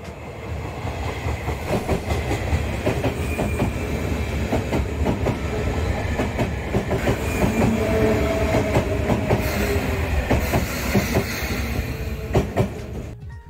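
A train rumbles past close by near Kashiwadai Station in Japan, with a steady heavy roar and rhythmic clattering of wheels over rail joints throughout.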